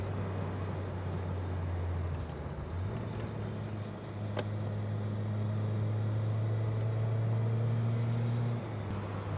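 Volkswagen Golf Mark II GTI with a thicker rear anti-roll bar driving at speed into a roundabout, a steady droning engine hum that shifts pitch as revs change, heard from inside the cabin with road noise.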